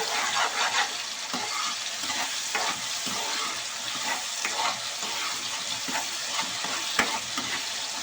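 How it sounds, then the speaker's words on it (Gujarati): Masala okra curry stirred steadily in a pan so it doesn't stick, a continuous close sizzle with soft scraping strokes of the spoon throughout, one sharper clink near the end, no voices. "અને આપણે હલાવતા રહીશું કેમ કે તળિયે સોટી ન જાય તે માટે"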